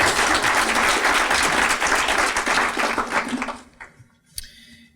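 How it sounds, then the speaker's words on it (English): Dense audience applause at an educator awards ceremony, full and steady for about three seconds before fading to a few scattered claps. "Let's give them one more round of applause."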